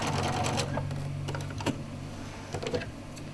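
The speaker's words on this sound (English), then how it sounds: "Put your presser foot down and sew out to the end." A sewing machine runs steadily, sewing a quilt binding off at a diagonal to the edge, with a constant motor hum and a few light clicks and taps along the way.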